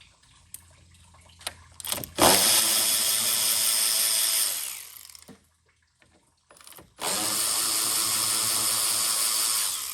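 A power tool loosens 8mm bolts on a 6.0 Powerstroke during an oil cooler replacement. It makes two long, loud continuous whirring runs with a short quiet gap between them, plus a few scattered clicks and knocks.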